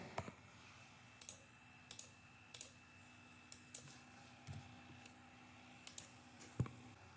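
Mouse clicks while drawing in GetonAgain CAD software, about a dozen sharp, isolated clicks spaced irregularly over a quiet background with a faint electronic hum, close to the microphone and no talking.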